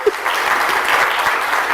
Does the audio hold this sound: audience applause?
yes